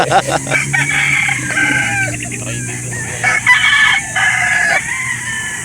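At a chicken market, roosters crow repeatedly over a dense background of clucking fowl, several drawn-out calls overlapping, loud and near, with faint voices mixed in.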